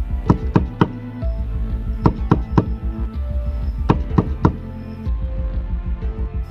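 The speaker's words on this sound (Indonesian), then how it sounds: "Tiba-tiba terdengar suara ketukan pintu berkali-kali." Hard, sharp knocks strike a door again and again in uneven bursts of several raps, loud and close, with brief pauses between groups and no voices.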